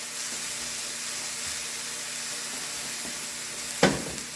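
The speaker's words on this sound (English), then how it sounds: "Now we want to start adding our pepper and our onions to it." Peppers and onions hit a hot pan for New Mexican green chile enchiladas, setting off a broad, steady sizzling hiss with one sharp clatter near the end, and no voices.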